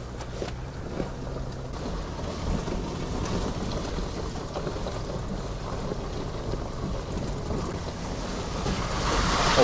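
A car rolls along a rural Ozark road and sloshes through standing water, a broad rushing wash of spray beneath the tires that stays steady and swells louder toward the end, with no voices.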